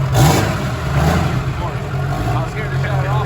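Diesel mega truck engine revving as the throttle pedal is tested, a heavy low rumble rising and falling steadily throughout, loud and close.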